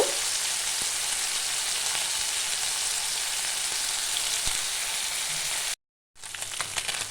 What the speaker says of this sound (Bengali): এক মিনিট এই পাশটা আমি ভাজব